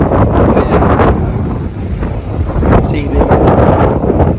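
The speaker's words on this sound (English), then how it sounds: "the wind was starting to really pick up and get quite serious now" Strong, gusting wind buffets the microphone high on the approach beneath the north face of Ben Nevis, a steady loud roar that swells and eases, with brief speech breaking in.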